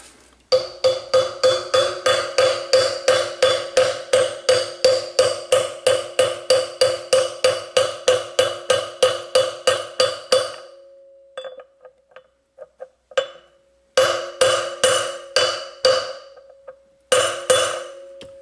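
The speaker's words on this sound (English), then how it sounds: "you'll know when your bearing is bottomed out when you hear a different pitch to the noise when you're tapping it down" A bearing is driven into place on a Coleman CT100U using a big socket as a driver, with a rapid run of sharp metallic hammer taps. After a pause, shorter bursts of taps follow at a ringing, shifted pitch.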